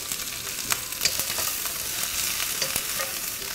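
Ginger slices hit hot oil in a wok alongside blanched cured duck, giving a steady close-up sizzle with occasional sharp clicks and scrapes from stirring, with no voices.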